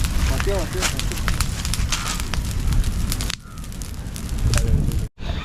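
A large wood fire crackles and roars outdoors in a forest, with sharp pops and snaps over a dense rushing hiss; voices are heard faintly in the background.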